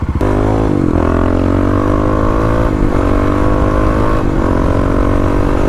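A Kawasaki KLX351 motorcycle engine runs at high revs with a misfire. The note is loud and close, with pitch sweeps and brief stumbles breaking the buzz.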